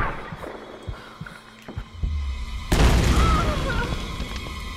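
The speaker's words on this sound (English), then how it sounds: "Oh, shit. Grenade launcher." Grenade launcher blast in the Tomb Raider video game: after low, thudding beats, a sudden loud, close explosion erupts and leaves a long, heavy rumble, with no talk over it.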